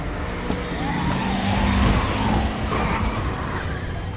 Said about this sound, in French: Reprends la Jeep, pas la voiture de police!